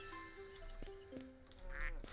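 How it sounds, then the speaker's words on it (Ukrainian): A few quick, nasal duck quacks with a synthetic tone from a farming and supermarket video game, spaced irregularly over a faint background hum. "Ну що ти крякаєш?"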